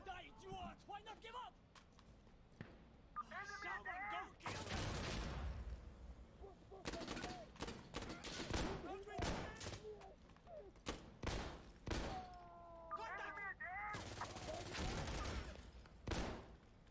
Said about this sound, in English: Lots of grenades.